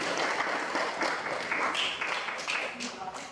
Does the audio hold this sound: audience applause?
yes